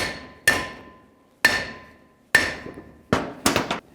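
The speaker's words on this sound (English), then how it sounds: "If you don't have a seal installer, sometimes just a piece of wood, block of wood works well." Five sharp hammer blows on a wooden block driving a brake seal into place on a Ford E-250, evenly spaced at first, then a quicker pair at the end, each ringing and decaying, close by and loud.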